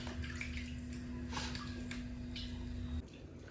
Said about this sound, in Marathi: आता आणखीन 1 पाण्यानं आपण स्वच्छ धुवून एका ह्याच्यामध्ये काढायचं आहे